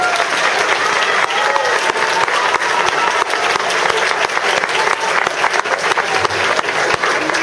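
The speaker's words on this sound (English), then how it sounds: "Give them a round of applause." Loud, dense audience applause fills a fifth-grade graduation ceremony, with many hands clapping steadily and without a break the whole time.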